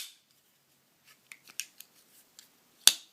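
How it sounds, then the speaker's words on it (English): A Kershaw Knockout folding knife with SpeedSafe assisted opening snaps open from its thumb stud: a few faint clicks and handling taps, then one sharp metallic snap near the end, close and isolated in a quiet room. "The knife does feature Kershaw's speed-safe assisted opening mechanism."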